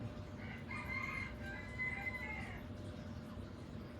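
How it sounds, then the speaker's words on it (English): A rooster crows once, somewhat distant, over a steady low rumble of background noise. "My little rooster's out there crowing, you'll probably hear him."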